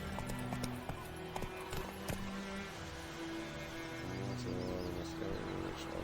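Roach, a horse in The Witcher 3, trots with a steady clip-clop of hooves under a droning game music bed, alongside tonal in-game sounds.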